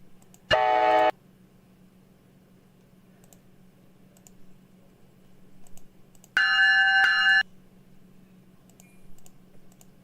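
Train bell sounding in a Roblox train game, two bright, harsh ringing bursts about six seconds apart, each lasting under a second, over a quiet low hum.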